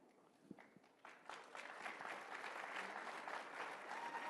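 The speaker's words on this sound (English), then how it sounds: "I hate it when people clap for you." Audience applause at a CPAC conference near Washington, D.C., starting faint with a few scattered claps, then swelling after about a second into steady, sustained clapping from a large crowd.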